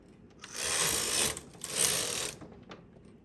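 A knitting machine carriage knits back and forth across a row in two sustained, rushing mechanical passes with a ratcheting clatter. The sound is close and fairly loud, with no talking.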